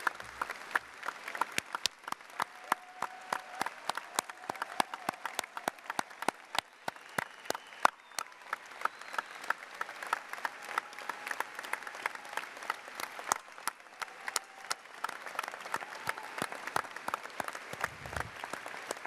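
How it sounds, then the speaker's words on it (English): Sustained audience applause honoring police and first responders at a cooperative's annual business meeting, a dense, steady patter of many hands clapping at once, continuing evenly for the whole stretch without talk. "And please remain standing as we applaud your service."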